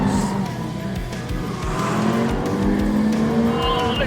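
A normally aspirated 4.5-litre V8 of about 605 horsepower, built to rev to 9,000 rpm, climbs through a loud, rising engine note with gear changes, close and continuous over road noise.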